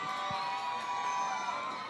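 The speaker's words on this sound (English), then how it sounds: "Screaming, shouting, and clapping" Crowd at an outdoor Concord tree lighting and sing-along shouting and whooping in a dense, continuous wash of voices, steady and fairly loud with no clear breaks.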